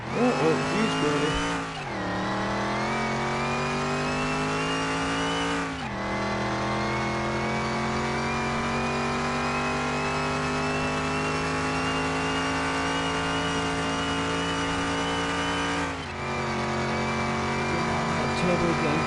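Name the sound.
race car turbo engine revving in a PS4 racing video game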